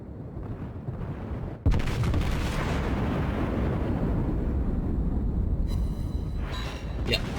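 Battleship guns of the Tier 5 USS New York firing armor-piercing shells in World of Warships, a loud booming blast at about 1.6 s followed by a long, dense rumble with some quieter noise throughout.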